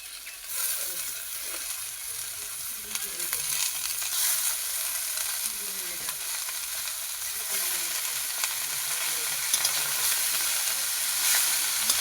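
Leafy greens crackle and sizzle in a hot pan with already-fried eggplant and potato, a steady hiss with soft stirring and bubbling underneath, no voices.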